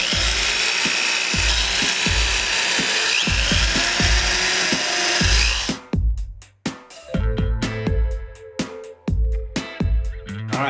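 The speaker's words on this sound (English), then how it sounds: "we'll drill a couple 100 holes here." A power drill bores holes in wood with a steady high whine and grinding, then stops and starts in short bursts broken by clicks and knocks.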